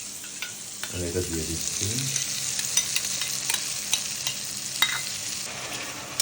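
A spice masala of turmeric, chilli, cumin powder and sour yogurt sautés for a pangas fish curry, hissing and sizzling steadily with scattered stirring clinks, while a short spoken remark is heard near the start.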